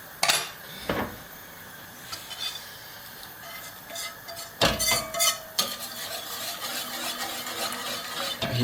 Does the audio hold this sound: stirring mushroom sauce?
yes